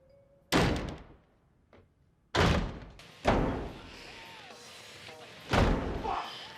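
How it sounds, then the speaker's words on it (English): A door slammed hard several times in anger, each a loud, sharp thud with a short rattle, spaced irregularly with quiet gaps between blows. "he starts angrily slamming the door"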